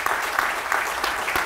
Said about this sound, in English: Let's have a round of applause just for them being here to start.